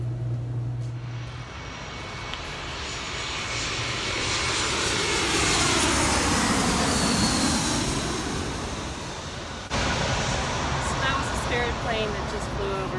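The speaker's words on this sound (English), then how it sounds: "Plane that just flew over." An airplane flies overhead, its engine drone swelling from a distance to a loud peak in the middle and then fading away, with a sliding pitch as it passes.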